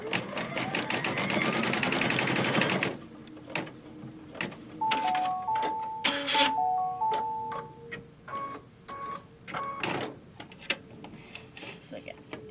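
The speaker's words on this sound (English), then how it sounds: "then it's going to stitch the other side" An embroidery machine stitching a mug wrap in the hoop runs loudly for about three seconds, then stops, leaving soft clicks and short beeps while a person talks.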